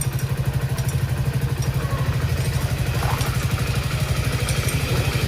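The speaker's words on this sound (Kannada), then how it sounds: "ಗಾಡಿ ಸ್ಟಾರ್ಟ್ ಆಗ್ತಾಯಿದೆ." Hero Splendor Plus BS6 motorcycle engine running after a self-start, a steady close rhythmic thumping idle that holds evenly for several seconds before cutting off abruptly at the end.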